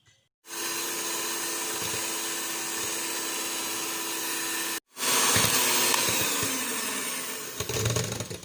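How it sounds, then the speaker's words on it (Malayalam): An electric beater whirs steadily as eggs and sugar are whipped for a tea cake, stopping briefly and then resuming with a rougher, slightly louder tone and small shifts as sugar is added, close and alone. "കുറേശ്ശെ നമ്മൾ പഞ്ചസാര എടുത്ത് വെച്ചിട്ടുള്ളത് ഇട്ട് കൊടുത്തിട്ട് നന്നായിട്ടൊന്ന് ബീറ്റ് ചെയ്തെടുക്കാം"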